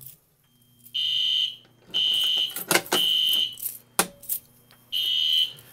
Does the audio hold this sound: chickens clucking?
no